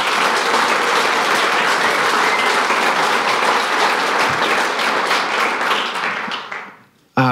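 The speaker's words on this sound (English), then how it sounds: "Another round of applause for Roland." A keynote audience claps in dense, sustained applause that stays loud and full for about six seconds, then tapers off quickly toward the end.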